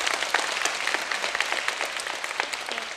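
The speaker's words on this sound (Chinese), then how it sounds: "鼓掌一下好不好" An audience applauding at a public talk and dialogue event, a sustained wash of many hands clapping, fairly loud and even for several seconds, with no talking over it.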